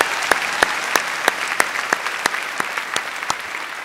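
Crowd at a spring graduation ceremony clapping in steady rhythmic unison, a regular beat of loud claps over a dense bed of applause, with no talk.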